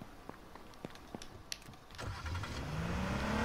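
A police car in H1Z1 gives a series of sharp clicks and ticks, then its engine fires up and builds into a steady, rising rev that keeps climbing through to the end.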